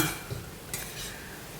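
A spoon stirs an amaranth-stem curry in a pan after turmeric, curry leaves and chili powder go in, making a couple of close scrapes and clinks over a faint sizzle, with no talking.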